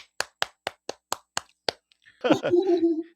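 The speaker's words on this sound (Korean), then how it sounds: "박수 부탁드릴게요." A few audience members clap one at a time to welcome a guest onto a Korean talk show, seven sharp separate claps in an even rhythm, then a burst of cheering and a voice after them.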